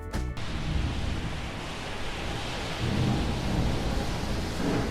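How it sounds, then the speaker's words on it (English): A heavy thunderstorm: a sharp thunder crack at the start gives way to steady, loud rain hiss with low rumbling that swells again toward the end, no voices. "a heavy storm is coming"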